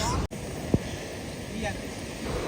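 Athirappilly waterfall in the rain, a steady broadband roar of rushing water heard at a distance, with a brief knock early on and a voice faintly present.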